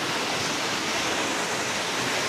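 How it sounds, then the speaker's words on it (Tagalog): Powerful water pours over Talon Kamandag waterfall in Kaysuyo, Alfonso, Cavite, a dense, loud, unbroken roar that fills the clip with no voices. "malakas yung agos ng tubig"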